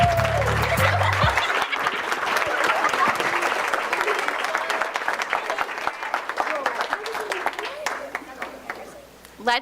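A school board public meeting audience claps for fifth grade students and their teaching team: dense, steady applause filling the room for nearly ten seconds, with a brief voice at the very start, slowly thinning toward the end.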